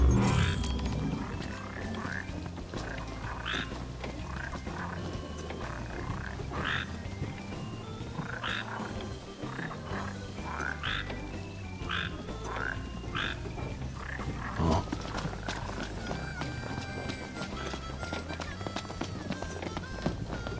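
Frogs croaking at a slough in Final Fantasy XV, a long run of repeated croaks in a loose rhythm over steady marsh ambience, moderately close and somewhat faint, with occasional other game sounds.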